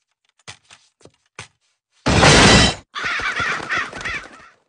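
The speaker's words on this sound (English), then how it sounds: "those crows keep getting in" Crows cawing inside a house in a cartoon scene: a few short, faint calls, then a loud harsh burst and a longer raucous stretch of overlapping caws close by.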